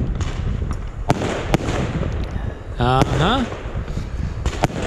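Fireworks burst in front of a residential driveway: sharp, loud bangs at irregular intervals, then a rapid run of crackling, whistling pops near the middle, with a brief voice murmuring.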